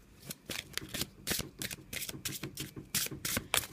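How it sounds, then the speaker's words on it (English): Papery riffling and soft slaps of a deck of oracle cards being shuffled, a quick irregular flurry close up with no talking. "So I'm just going to give them a little bit of shuffle."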